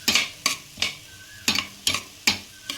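Cumin seeds are stirred in a hot pan for vegetable pongal, making six sharp, close scraping strokes at a steady rhythm with a light sizzle underneath.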